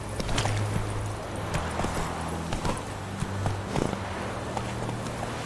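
Horse hooves clip-clop at a steady walking-to-trotting rhythm while riding in The Witcher 3, fairly close and continuous over a low musical hum.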